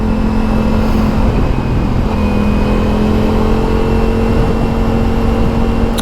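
A Ducati Multistrada Pikes Peak motorcycle pulls hard in sport mode, its engine and exhaust droning steadily with a rising tonal whine as it accelerates, close and loud with wind noise.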